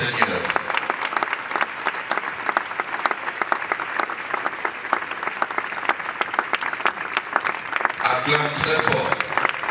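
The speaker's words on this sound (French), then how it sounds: "Acclame très fort pour le Seigneur" A crowd at a funeral claps loudly and continuously in dense, rapid applause, with a voice calling out over the clapping near the end.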